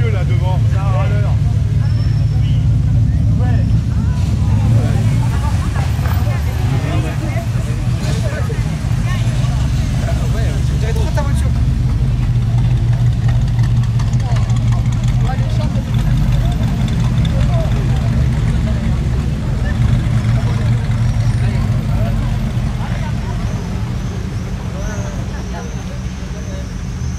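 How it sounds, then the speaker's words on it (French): A classic car engine runs with a steady low rumble at the Rock&Cars 2025 car show, under continuous crowd chatter and outdoor bustle throughout. "Alors, on fait rugir le moteur."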